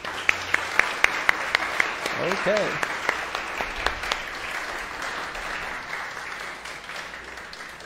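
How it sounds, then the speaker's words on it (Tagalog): Church congregation clapping at a Sunday worship service, opening with a few sharp distinct claps that swell into sustained applause, while a voice speaks briefly over it. "the best na palakpak para kay Jesus"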